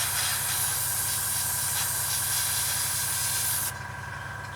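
An air compressor for an airbrush, used while painting a Tamiya 1/48 Spitfire Mk.1 scale model, runs with a steady low rhythmic chugging under a constant hiss. The hiss drops away near the end while the motor keeps running.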